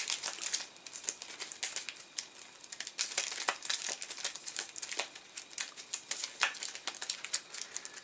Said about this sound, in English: Give them a good mix and a good shuffle.